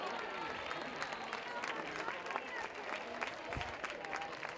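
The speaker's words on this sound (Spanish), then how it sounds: "¡Un fuerte aplauso!" Crowd applause at a fair queen coronation in Casares, a dense steady clapping that fills the whole stretch, loud and continuous with a crowd murmur beneath.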